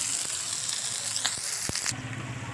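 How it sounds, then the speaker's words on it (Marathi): Chopped onion fries in oil on a very hot griddle, giving a steady close sizzle and crackle with a few sharp pops before the hiss drops off. "आता कांदा मस्त लाल होईपर्यंत परतून घेतो."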